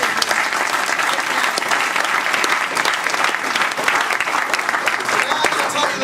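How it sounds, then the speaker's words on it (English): Applause from a seated audience at a motivational kickoff event, a dense steady wash of many hands clapping throughout, loud and continuous with no pauses. "Clap it up for yourselves for making that decision."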